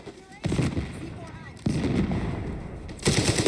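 Gunfire rattles in bursts in Call of Duty Black Ops 6 multiplayer: three loud volleys of rapid shots, separated by short gaps, with a player's voice underneath.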